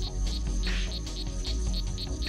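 Male strawberry frogs calling in a Central or South American rainforest, a steady series of short, high chirping calls repeating in rhythm over a dense, continuous buzz of insects.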